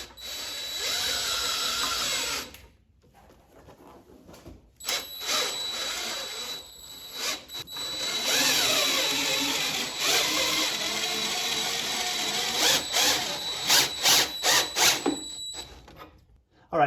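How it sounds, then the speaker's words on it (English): A cordless drill fitted with a 7/8 inch socket winds up a Vevor motorcycle lift. It whirs in close, loud bursts, first briefly, then in a long sustained run, and finally in quick stop-start pulses. "So what I've got is just on my cordless drill, I have a 7/8 inch socket,"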